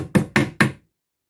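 Three quick, close hammer blows driving nails into the drawer of a Babymax Alaska changing dresser during assembly, evenly spaced and sharp, then silence.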